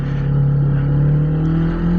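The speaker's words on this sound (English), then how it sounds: "So it's revving a lot and it's not moving." A Kawasaki Eliminator motorcycle engine revs hard while standing still, a loud, steady droning note that climbs gradually in pitch, close up and with no other sounds.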